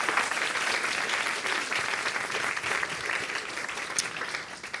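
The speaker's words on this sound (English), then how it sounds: "A round of applause for our panelists, please." A conference audience applauds its panelists with sustained, dense clapping that holds a steady level throughout, like a full room heard from within the crowd, without voices standing out.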